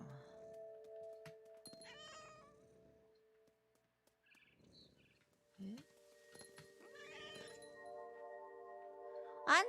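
A cat meows several times in the game What Remains of Edith Finch, with drawn-out, wavering cries spread across quiet, dark ambience, plus a few clinks and a sharp final yowl.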